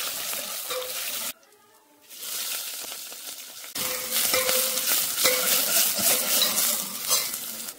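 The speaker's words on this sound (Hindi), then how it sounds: "हमने काट ली फ्रेंड शिमला मिर्च और आलू, अब तेल गरम है वो। पहले शिमला मिर्च को फ्राई कर ले" Chopped capsicum sizzling in hot oil in a pan, a steady crackling fry with stirring scrapes, briefly dropping out for a moment before returning louder and fuller.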